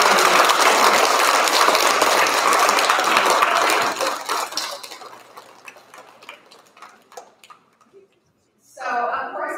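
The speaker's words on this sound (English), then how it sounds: "Would you please give them a huge round of applause?" An audience at a fifth-grade school continuation ceremony claps loudly for about four seconds before the applause thins into scattered claps and fades to near silence, then a voice begins speaking.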